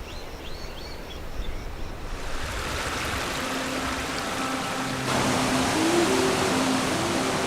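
The Debed River in northern Armenia flows past, its steady rushing water swelling louder partway through, with faint birdsong early on and no talk.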